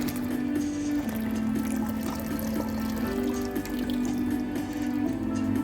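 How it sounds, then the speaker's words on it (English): Water draining out of a Bosch dishwasher showing an E15 error, a steady gurgling rush with a low droning hum from the drain pump running continuously and fairly loud, with no talking. "Now water draining out. It's water already draining."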